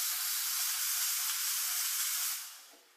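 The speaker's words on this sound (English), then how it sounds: "it really helps just to bleed that one for a little while, and that way you're getting the best dry steam" Espresso machine steam wand being bled, a loud, steady, close hiss of dry steam that holds evenly and then tapers off as the valve closes.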